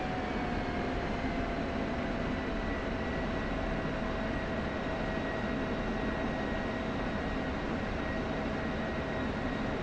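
Steady, unbroken drone of a jet aircraft engine in the DCS flight simulator, loud and constant with a faint whining tone held throughout and no clear change in level.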